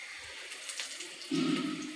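Water is poured into a pan of roasted semolina with reddened chillies while upma cooks. Steady background hiss turns into a louder, fuller gush about two thirds of the way through and runs on to the end, with no talking.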